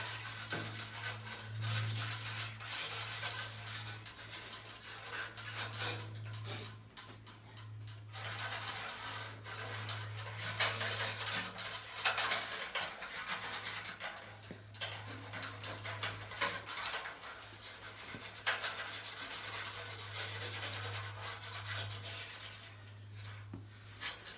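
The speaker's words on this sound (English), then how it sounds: "on all my irregular surfaces, I'm using just a red Scotch-Brite pad" Soft, continuous scrubbing of a 1979 Ford F100's irregular metal body surfaces with a worn red Scotch-Brite pad, a quiet, even rasping that goes on without pause over a low steady hum.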